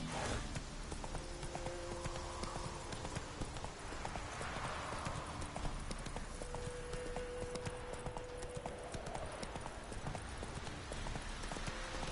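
Steady clip-clop of a horse's hooves from The Witcher 3, trotting continuously at close range with rhythmic regular footfalls and faint game ambience underneath.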